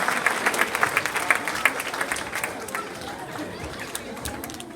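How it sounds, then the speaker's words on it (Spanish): A crowd claps loudly with dense, rapid applause that gradually thins out, accompanied by chatter and voices in the room. "Un aplauso fuerte para mis animalitos, digo, para los participantes"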